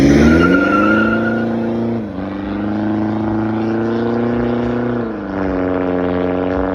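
A Mahindra XUV500 automatic with a single straight-through exhaust pipe revs loudly and close, its deep throaty drone rising and falling twice as it shifts up through the gears.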